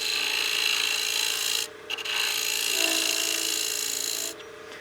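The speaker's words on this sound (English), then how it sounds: "If you want to, you can go ahead and use your skew to get in there." A skew chisel cuts wood on a lathe while shaping the concave foot of a turned utility box, giving a steady, close, loud rasping hiss that drops out briefly twice.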